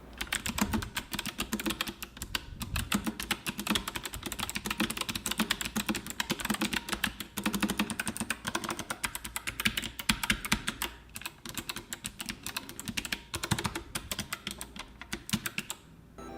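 Continuous typing on an MSI Vigor GK50LP low-profile mechanical keyboard: dense, steady clicky keystrokes with brief pauses, close and moderately loud, no voices.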